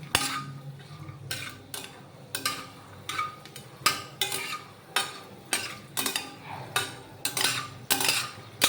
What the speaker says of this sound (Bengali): বাদামটা দেখো ভাজা হয়েই এসেছে। এবার আমি বাদামটা তুলে নেব।